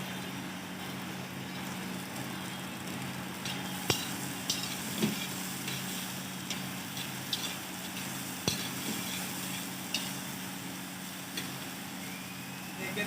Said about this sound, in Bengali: দু মিনিট পরে কাঁচা টমেটোটা দিয়ে দিচ্ছি পেঁয়াজটাও দিয়ে দিচ্ছি